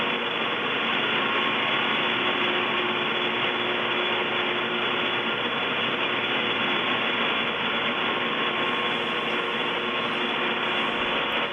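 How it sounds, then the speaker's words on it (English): Cable tram traction equipment inside an engine house gives off a loud, unbroken mechanical roar with a faint steady hum running through the din. "the roar of the cable traction equipment was incredible"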